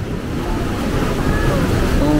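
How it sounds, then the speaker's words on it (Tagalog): Strong ocean waves surge and rumble in a loud, windy roar close to the microphone, steady throughout with wind buffeting. "Lakas ng alon."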